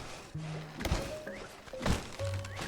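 Wood being chopped in the rat colony-building game Ratopia: two or three dull, knocking thunks spaced about a second apart, moderately loud, over soft game music with short tonal chimes.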